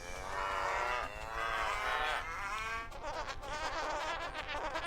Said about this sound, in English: Yep, we're just sprinkling cows throughout everywhere.